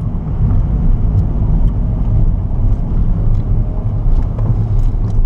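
A car drives through an autocross slalom at an SCCA StartingLine session, a steady low engine drone with mild wind rumble, heard from inside the cabin without talk.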